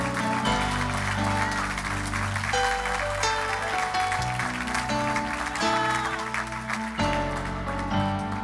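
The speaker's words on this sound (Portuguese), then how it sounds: "Você pode aplaudir o Senhor Jesus?" A church congregation applauds during a worship service, the clapping a steady patter underneath loud sustained keyboard or organ chords that dominate throughout.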